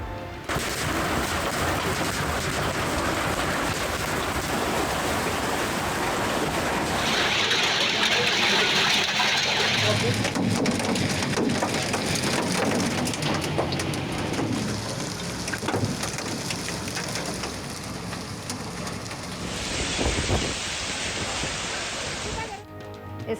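Heavy storm rain pours steadily throughout a news report on storms and hail in Khyber Pakhtunkhwa and Punjab, a dense broadband roar with bursts of rumbling that could be thunder, and a faint voice in places.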